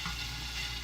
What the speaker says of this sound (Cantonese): 就將啲肉擺落去兜一兜先，兜一兜啲碎肉